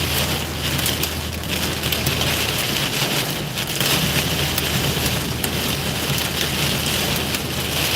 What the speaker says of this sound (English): we're starting to get really heavy rain, horizontal winds, hail. We're getting some hail too.